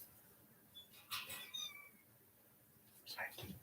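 A house cat gives a few soft, short meows close by, with quiet whispered talk around it.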